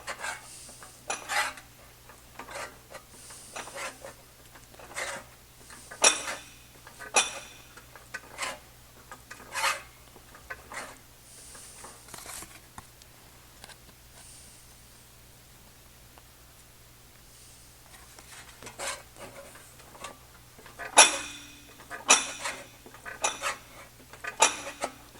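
A metal shrinker works the edge of a sheet metal patch panel in a run of short, sharp metallic clacks and rasps, close and irregular, pausing briefly midway before a cluster of louder strikes near the end.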